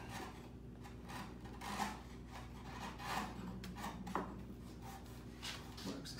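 A chisel pares wood by hand, with soft repeated scraping and rubbing strokes and a few light knocks, steady at close range with no talking.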